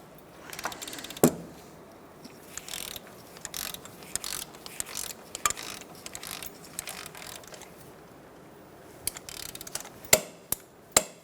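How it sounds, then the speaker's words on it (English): Working on the steering rack of a 2004-2009 Mazda 3, a ratchet tightens a nut in bursts of quick clicking, broken by metallic clanks and a few sharp knocks near the end. "We're going to tighten this to 40 foot-pounds."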